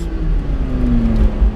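A McLaren 675LT sports car engine pulling hard under acceleration, a loud close low growl with a rising tone over a brief moment.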